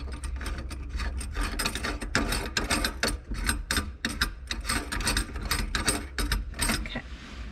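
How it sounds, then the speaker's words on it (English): A sink basket nut is hand-tightened a few turns, producing a close, continuous gritty ratcheting rasp of threads and plastic rubbing in quick repeated strokes. "I'm gonna start just by hand tightening it a few turns to get it to stay in place"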